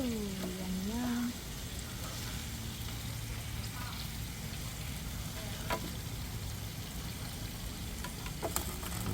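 Burger patties frying in a pan, a constant crackling sizzle filling the whole stretch, with a few faint clinks and a brief voice-like tone at the start.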